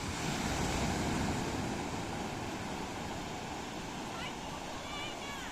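Waves at Old Digha beach near the old Jagannath temple wash in as a steady, broad roar of surf with wind buffeting the microphone, continuous and fairly distant, with a faint tonal chirp near the end.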